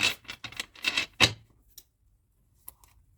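A quick series of soft papery riffles and flutters of somewhat stiff tarot cards being shuffled, close by, then a few faint taps in near silence.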